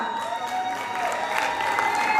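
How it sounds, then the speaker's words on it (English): Audience applause and cheering fill a prize distribution ceremony at a college closing event, a steady dense wash of clapping with crowd noise throughout, continuous and fairly loud. "So a huge round of applause for her."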